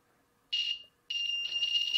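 An electronic buzzer wired into a drone build sounds two shrill, high-pitched tones: a short burst, a brief silence, then a longer continuous buzz that runs to the end.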